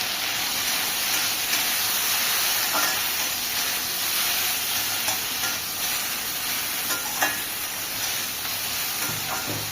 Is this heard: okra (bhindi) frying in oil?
yes